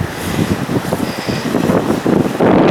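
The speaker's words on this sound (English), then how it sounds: "Don't mind the wind." Strong wind buffets the microphone as Hurricane Fiona's storm moves out of Nova Scotia, a steady loud rumbling roar with gusty surges that swell toward the end.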